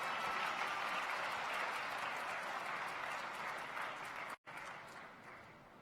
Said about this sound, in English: how about another very, very warm round of applause for Professor Ann Craig Lum and the student